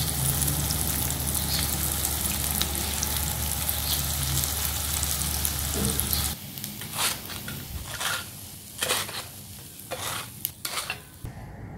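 Chilled food frying in a little hot oil sizzles densely at first, then the crackle thins into sparse pops and spits, broken by scraping stirs near the end.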